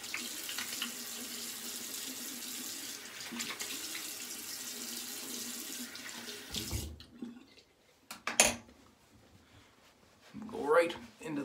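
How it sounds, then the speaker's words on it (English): Cold water running from a bathroom tap into a sink for a post-shave rinse, a steady splashing flow that stops partway, followed by faint scattered splashes and soft handling sounds. "Do a cold water rinse."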